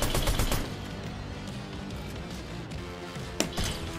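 Bursts of SMG fire in Fortnite, a dense, continuous rattle of shots filling the clip, with a sharp louder crack near the end and no talking.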